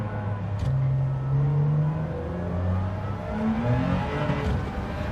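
An Aston Martin DB5 in the Gran Turismo racing game revs loud and steady, its engine tone climbing and falling through the gears as it is pushed toward the limiter, with no talking over it.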